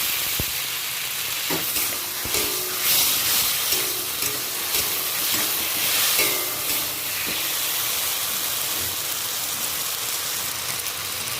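Spice masala sautéing in a pan for a potato, pointed gourd and egg curry, a dense continuous hissing sizzle with scattered clinks and scrapes of a spatula.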